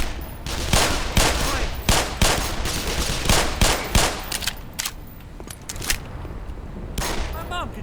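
A sustained firefight in the shooter game Black Mesa, with rapid rattling bursts and single gunshots cracking repeatedly and loudly, close and overlapping, over a constant layer of background noise.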